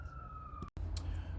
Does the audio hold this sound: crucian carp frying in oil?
no